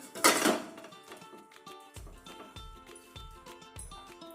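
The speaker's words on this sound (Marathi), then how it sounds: "आता आपण त्याच्यावरती हे भांड ठेवायचं मोदकाचं" A metal modak steaming pot clanks down onto boiling water with a loud clatter, followed by quieter rhythmic knocks and rattles of cookware settling over bubbling water.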